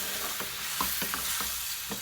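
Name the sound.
stirring pineapple habanero sauce in a pan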